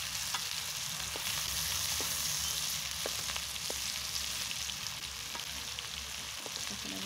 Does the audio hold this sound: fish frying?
yes